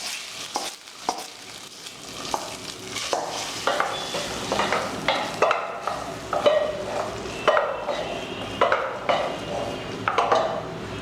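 Dried vathal fries in hot oil in a pan for broken wheat rava pongal, with a steady sizzle under repeated scraping spoon strokes and metallic clinks against the pan.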